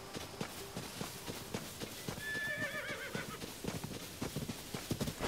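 A horse in The Legend of Zelda: Tears of the Kingdom clip-clops at a walk over the ground, hooves tapping in an uneven rhythm, with a clear whinny rising midway through, close and moderately loud.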